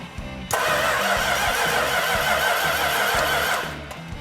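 A big boat engine with a street cam cranks briefly, then catches and roars into a loud, steady run that lasts about three seconds before fading back down. No one speaks over it.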